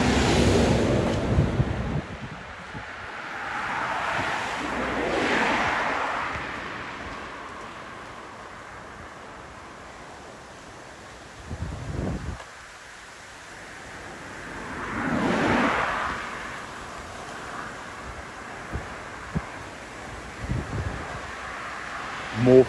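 Wind blowing outdoors under a heavy, cloudy sky near factories in London, a continuous rushing roar that swells and fades with gusts and buffets the microphone, with no voices.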